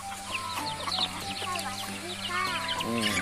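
Chickens cluck and call repeatedly in short bursts over a steady farmyard background, close by, with several birds overlapping.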